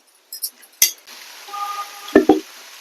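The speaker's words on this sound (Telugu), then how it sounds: "అదే బాండిలో ఇది సొరకాయ ముక్కలు వేసేసుకున్నాం" Bottle gourd pieces being worked in an oiled pan, a few scattered metallic clinks and scrapes of a spoon against the pan with a faint background hiss, then two sharper knocks near the end, without speech.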